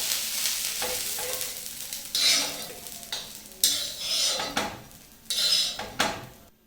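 Spices and coriander leaves are dry-roasted together in a pan for a Maharashtrian kharda, with a soft sizzle. A spoon scrapes and stirs in five or six distinct strokes, each one a close, bright rasp against the metal.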